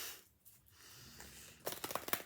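Soft rustling, then a quick run of crisp riffling snaps as a deck of tarot cards is shuffled close by.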